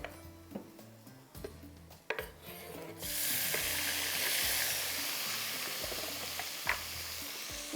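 Fried garlic masala and tomatoes sizzle in a pan for a dal tarka, with a few spoon scrapes and taps at first before a louder, steady hissing fry swells up and carries on to the end.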